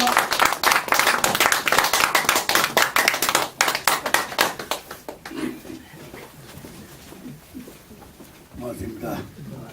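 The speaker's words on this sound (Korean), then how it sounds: "나오실 때 박수로 맞이해 주시기 바랍니다." Audience clapping to welcome a speaker at a Korean unification lecture event, a burst of fairly rhythmic claps for about five seconds that breaks off into scattered claps, with voices talking over the fading tail.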